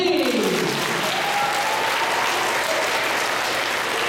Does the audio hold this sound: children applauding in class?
yes